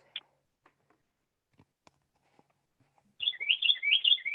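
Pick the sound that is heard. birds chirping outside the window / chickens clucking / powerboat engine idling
birds chirping outside the window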